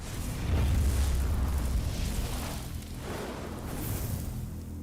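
Moze's grenades in Borderlands 3 go off as deep, rumbling blasts that roll into one another, a heavy low boom early on followed by softer swelling detonations.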